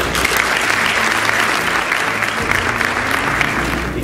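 An audience at an orthodontics congress, the A.I.O. 2019 meeting, gives dense, sustained applause, steady and loud from start to finish with no break.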